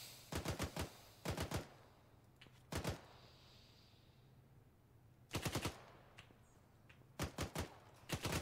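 Game gunfire comes in short automatic bursts of sharp cracks, loud and close, with quiet gaps between bursts over a low hum.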